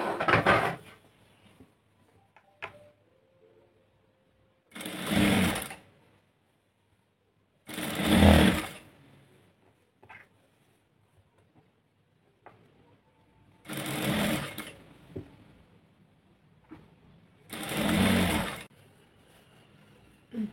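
A sewing machine runs in five short bursts of rapid stitching on fabric, separated by quiet pauses with faint handling clicks, heard close and alone.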